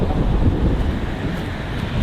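Steady wind buffeting an outdoor microphone on a Thai music-video shoot, a continuous low rumble with no clear speech over it.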